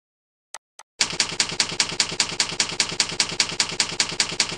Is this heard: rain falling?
no